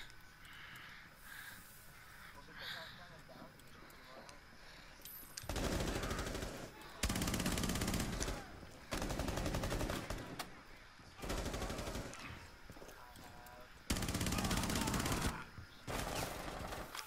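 Bursts of automatic gunfire in the video game Rainbow Six Siege ring out in several loud, separate volleys with quieter stretches of game sound between them.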